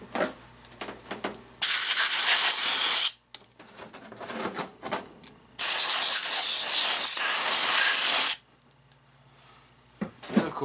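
Compressed air blasting off a Hydro-Gear pump part from an Exmark Lazer Z mower in two loud, sustained hissing bursts, each lasting a few seconds, separated by quieter workshop handling noises.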